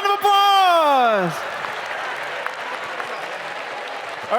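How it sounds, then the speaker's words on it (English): A convocation audience at Liberty University bursts into loud, sustained applause after a Harlem Globetrotters countdown, a sliding whistle-like tone falling away as the steady clapping continues alone to the end. "give him a round of applause."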